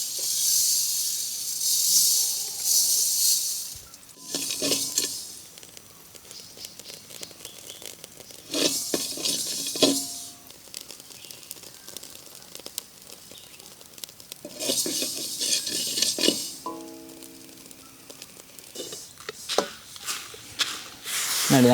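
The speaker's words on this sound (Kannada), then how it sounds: "ಎಲ್ಲ ರಾಗಿಯನ್ನು ಕೂಡ ಇದೇ ರೀತಿಯಲ್ಲಿ ಹುರಿದು ಸಿಡಿಸಿಕೊಳ್ತೇನೆ" Ragi (finger millet) grains roasting and popping in a pan: bursts of crackling, crinkly patter come in clusters of a few seconds each, separated by quieter stretches of soft hiss, fairly close and with no talking.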